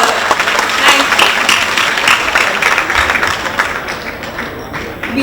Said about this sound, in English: You have to clap better and louder.